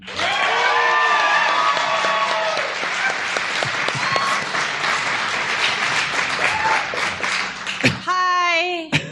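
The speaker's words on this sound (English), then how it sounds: "Ladies and gentlemen, please give a big round of applause for Maureen Johnson." Live studio audience applauding and cheering for a guest on a board game talk show, steady loud clapping for about eight seconds before a voice greets the crowd at the end.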